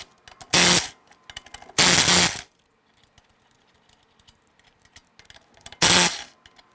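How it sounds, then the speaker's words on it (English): Lug nuts on a 2001-2007 Ford Escape wheel come off with a 19mm socket in three loud, harsh bursts, the middle one longest, separated by quiet stretches with faint clicks. "we want to go ahead and remove the lug nuts"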